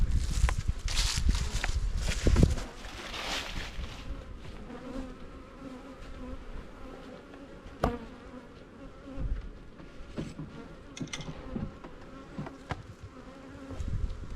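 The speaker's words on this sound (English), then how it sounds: "Lots and lots of bees." Honeybees buzz in a dense, steady drone close by in an opened hive in spring, with some handling clunks and shuffling steps early on, fairly quiet overall.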